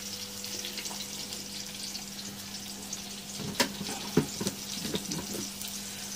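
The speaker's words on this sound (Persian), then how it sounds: "پیاز یکم سرخ شود که خوشمزه دیگه" Onions sizzle and crackle steadily in a hot pan, with a few sharp pops and stirring clatters midway.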